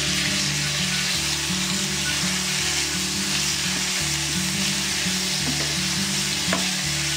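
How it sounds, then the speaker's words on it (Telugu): Amla chutney tipped into a sizzling oil tempering, a loud, continuous close frying crackle with a low rhythmic rumble underneath and occasional light clinks of a spoon. "ఇప్పుడు ఈ పచ్చడిని తీసుకొచ్చి రోటి పచ్చడిని ఇందులో వేసుకుందాం."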